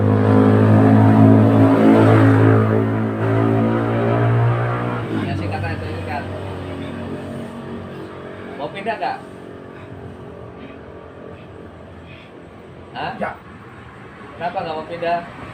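Traffic passes through a noisy spot, with a loud engine roar swelling and fading at the start, then a steadier rumble of vehicles continuing under a voice.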